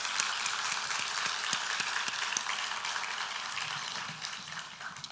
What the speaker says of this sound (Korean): 우리 수고한 여전도에 위해서 박수 한번 크게 치도록 하겠습니다